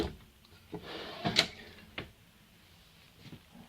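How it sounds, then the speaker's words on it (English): A soft-close, full-extension drawer in the kitchen of a 2018 Rockwood 8295WS Signature Series fifth wheel slides and settles shut with a few faint, muffled thumps and clicks spread across a quiet room, with no talking. "they're full extension drawers. Okay, and they have the self-closing soft close."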